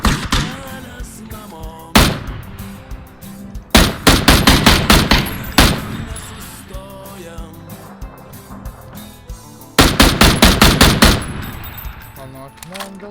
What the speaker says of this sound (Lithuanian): Kažkaip šaudo